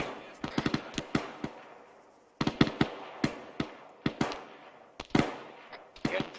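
Video game gunfire in a squad training match: sharp, loud reports in quick bursts, each with a fading echo, several clusters of rapid shots with brief pauses between them, close and alone, no talk.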